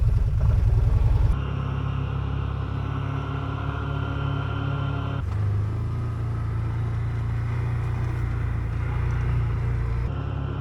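A car drives along toward the main road, giving a steady low road rumble and tyre noise throughout, with a louder burst of wind buffeting at the start and a shift in engine tone partway through.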